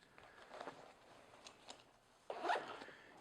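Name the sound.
zipper on hunting backpack pocket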